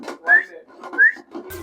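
A person whistles two short rising notes in imitation of a pressure cooker whistle during a mutton feast cooked by a group of young men, close and clear, with brief speech-like sound at the very end.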